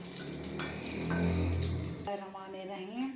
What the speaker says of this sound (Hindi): ये अब पकौड़े बन रहे हैं।